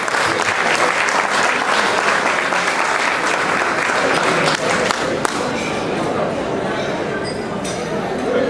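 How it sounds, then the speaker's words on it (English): A ballroom crowd at a Negril Chamber of Commerce gala dinner claps steadily for the chamber's president, dense sustained applause throughout with faint chatter and clinking glassware mixed in. "A round of applause, please."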